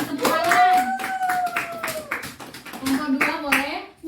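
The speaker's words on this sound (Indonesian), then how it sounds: "Ya, bagus sekali kelompok 1. Beri tepuk tangan." Students in a classroom clap for group 1, a short scattered round of claps mixed with a teacher's voice and children talking.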